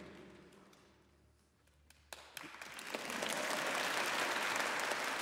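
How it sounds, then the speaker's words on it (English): A concert audience at an official symphony performance of Baldur's Gate 3 and Divinity: Original Sin 2 music breaks into applause, starting with a few scattered claps and swelling into a loud, sustained ovation from a large crowd. "Let's give them a huge round of applause."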